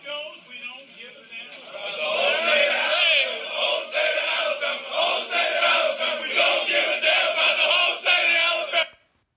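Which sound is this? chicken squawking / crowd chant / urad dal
crowd chant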